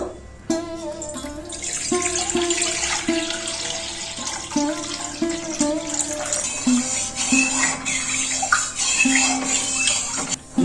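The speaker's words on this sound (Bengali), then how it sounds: "চিড়ের খিরপিটের জন্য দুধটা ঢেলে দেবো" Milk poured into a pot for chire kheer pithe: a continuous close splashing and pouring stream with a ringing tone from the vessel, loud and steady for about ten seconds, with no speech.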